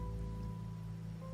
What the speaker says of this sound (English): Rain's back.